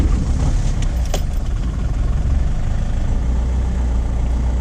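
An Opel Astra G Sport with a 2.2 DTI diesel engine idles while warming up, a steady low rumble heard up close and alone, with no talking.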